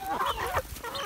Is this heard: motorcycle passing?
no